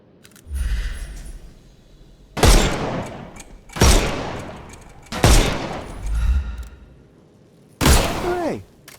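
Five loud gunshots in the Sherlock Holmes Chapter One video game, each a sharp crack with a booming tail, fired singly at irregular intervals of a second or two with quiet gaps between.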